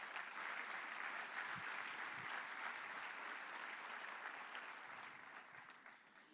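A church congregation applauds in a sustained, dense wash of clapping that holds steady and then slowly fades toward the end, heard from some distance in a large room.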